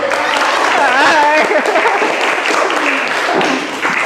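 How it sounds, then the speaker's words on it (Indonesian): Students in a classroom clap in brief applause, close and fairly loud, while a voice talks over the clapping before it fades out. "Tepuk tangan dong Fili."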